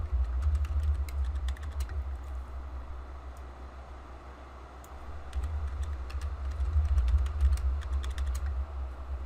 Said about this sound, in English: Can't type and talk at the same time.